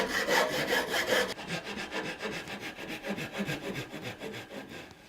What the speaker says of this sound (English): we'll rough cut this out with our saw